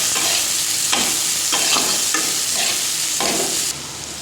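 Onion and chili frying in hot oil in a pan give a steady, close sizzle, with a spatula scraping and stirring in rhythmic strokes every half second or so.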